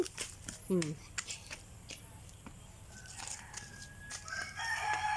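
Backyard chicken giving a few short clucks and a brief crowing call early on amid scattered outdoor noises, with people talking nearby.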